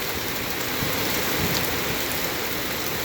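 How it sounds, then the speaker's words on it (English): Steady rain falling during a drive in Mexico, a dense, even hiss of drops that stays constant and fairly loud throughout with no talking. "Uh-oh, starting to get some rain"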